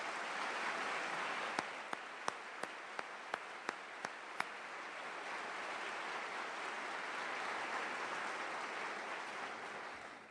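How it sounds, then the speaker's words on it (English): Faint, distant audience applause during a State of the City address, a soft steady wash of clapping with a brief run of about eight sharp, nearer single claps early on. "let's make this a clap and applause"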